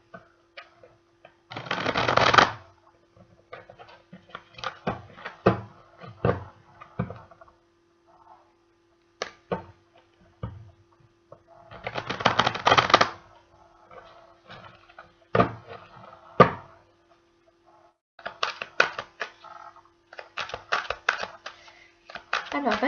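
Tarot or oracle cards are shuffled in several bursts of rapid riffling and flicking, close and fairly crisp, with quieter handling and pauses between them and a faint steady hum underneath.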